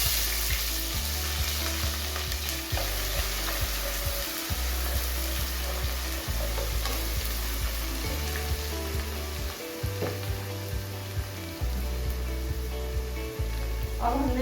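A medium-sized onion frying in two spoons of hot oil for mash ki daal, giving a continuous close sizzle over a steady low hum, with occasional stirring clinks and no talking.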